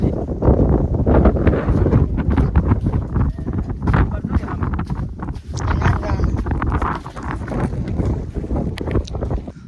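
Strong wind at a seashore buffets the microphone in gusty, rumbling waves throughout, with someone talking over it.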